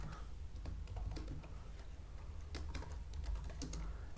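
A number typed on a computer keyboard, a quick run of close key clicks over a steady low background hum, with no talking.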